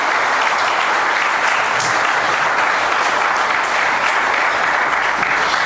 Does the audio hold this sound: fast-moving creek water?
no